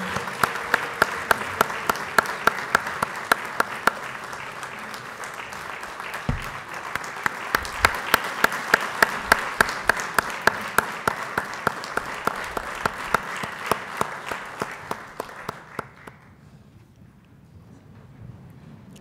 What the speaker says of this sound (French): Applaudissons beaucoup plus fort son Excellence pour ces belles paroles qu'on vient d'entendre.